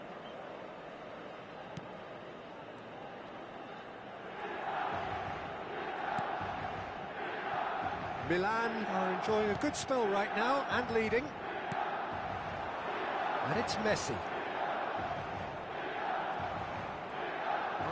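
Stadium crowd in an eFootball match on PS5 roars and cheers, swelling from about four seconds and staying loud, with bursts of whistling, under continuous commentary.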